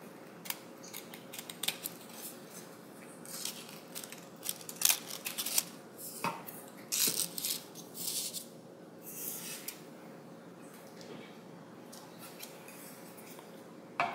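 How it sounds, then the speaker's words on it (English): Scissors snip and trim the edges of a paper craft piece for a 3-D paper art shadowbox, giving quiet, irregular crisp cuts with short pauses, close up and with no talking. "So I'm going to trim the sides of mine."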